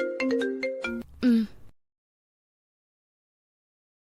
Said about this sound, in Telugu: అమ్మగారు ఫోన్ చేస్తున్నారు